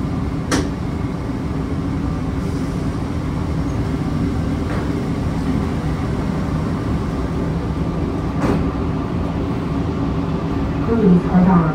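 Steady rumble of the Phoenix Sky Harbor International Airport Sky Train running between terminals, a continuous interior hum with a few sharp clanks, while a recorded announcement voice speaks over it.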